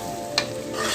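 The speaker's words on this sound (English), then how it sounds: "I'm going to let this also fry for a while along with my other paste." Meat masala and spice paste fry steadily in a pot for an aloo gosht curry, a dense close sizzle with one small scrape of a stir partway through.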